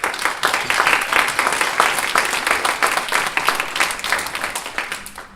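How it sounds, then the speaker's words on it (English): An audience at a chamber of commerce breakfast meeting claps steadily for about five seconds, a dense, close wash of many hands that tapers slightly at the end. "Let's give Leslie another round of applause"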